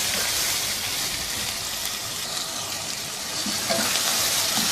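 Mutton browning in a pot for stew gives a steady, close, dense sizzling hiss that carries on without a break, with no talking.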